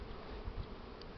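Honey bees buzz at a hive during a mite treatment, a faint, steady droning hum with no voices.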